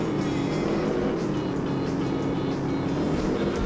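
Steady, loud engine drone of a racing car in the Wii game Classic British Motor Racing, a continuous dense roar filling the whole stretch with little variation.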